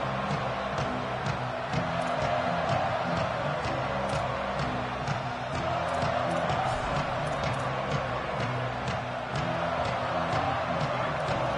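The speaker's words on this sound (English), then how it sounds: "Listen to this crowd just shaking the girders of this place" A large stadium crowd roars continuously in a big open venue in a college football video game, a loud sustained wash of cheering with no clear break.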